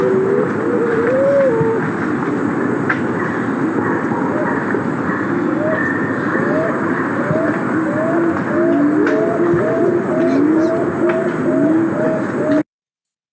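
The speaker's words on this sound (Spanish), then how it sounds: "Toda la estructura de pensar la música va a estar basada en el canto de este pájaro." A recording of a songbird studied in ethnomusicology, its repeated short rising and falling calls running steadily for about twelve seconds over dense, loud background noise.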